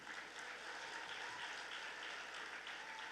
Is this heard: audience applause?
yes